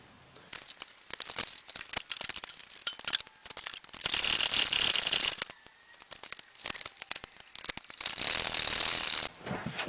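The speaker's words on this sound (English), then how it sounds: "And then we'll tighten up those top two bolts." Ratchet clicks tightening the upper control arm bolts on a 2000 Honda Civic EX, coming in bursts of rapid ratcheting separated by short pauses, close and fairly loud.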